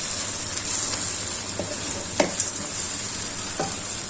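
Mushroom filling for chaussons sizzling steadily in a frying pan while being stirred, with a continuous hiss and a few soft utensil scrapes and clicks against the pan.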